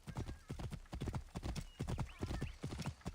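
Horse hooves clip-clop at a steady trotting rhythm in Assassin's Creed Origins, a run of crisp repeated hoof strikes over soft game ambience.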